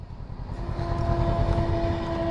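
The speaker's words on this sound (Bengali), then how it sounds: "ও ট্রেন যাচ্ছে" A train rolls past on a rainy day near Malda, a steady low rumble with a sustained tonal whine riding above it, fairly close and continuous, with no voices.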